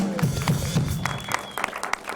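Audience applause for a guest named Joe Romy on a midnight talk show, a steady wash of clapping from a modest crowd, fairly loud and continuous with scattered sharper claps.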